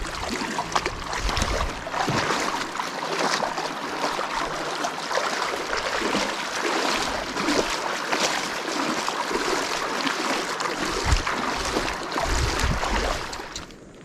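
A motorboat crosses a river with a steady, continuous engine rumble and broadband wash of spray and motion, loud and close throughout.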